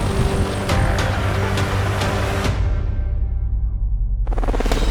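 Helicopter landing close to the marshaller, a loud roaring rotor and engine wash with a thumping beat that suddenly drops in pitch and volume as it settles, then gusty wind rush.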